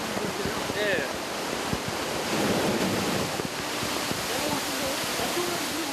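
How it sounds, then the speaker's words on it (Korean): At a water park wave pool, roughly 400 tonnes of water stored in an upper reservoir is released at once to make a wave, giving a continuous loud rushing, surf-like roar with wind noise on the microphone. "이곳에서 물을 모았다가 한 번에 배출시켜 파도를 만들어낸다고 합니다"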